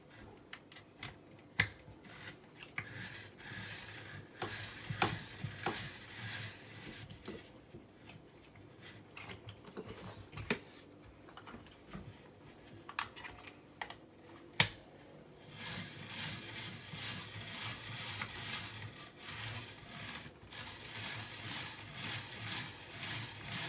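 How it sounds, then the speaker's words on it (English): Carrots are being shredded into julienne strips with a handheld kitchen gadget, making faint, sharp clicks and snaps that grow into a denser, steady rasping in the second half. "So for shredding carrots, I'll use my kitchen gadget."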